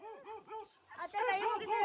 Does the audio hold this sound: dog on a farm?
yes